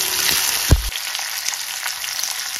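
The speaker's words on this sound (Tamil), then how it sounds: "எல்லாத்தையும் நல்லா வதக்கி விட்டுடலாம்." Pepper, curry leaves, dried chillies, onion and garlic sauté in a hot pan, giving a continuous close sizzle with a brief clatter of stirring near the start.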